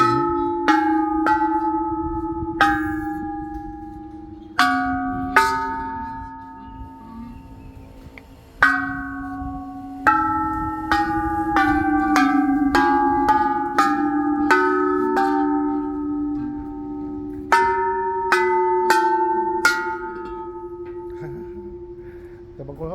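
A temple bell at Wat Chaimongkol, Pattaya, hit repeatedly with a wooden stick, about twenty irregular clangs that overlap into continuous ringing, each strike sharp and bright before the tone decays.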